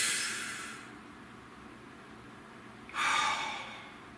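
Someone takes one slow, deep breath, a long breathy inhale close to the microphone, then a short pause, then a second airy breath.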